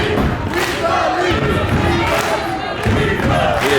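Wrestling show crowd roaring and cheering continuously, a dense wall of shouts and yells with a few thuds, loud and close throughout.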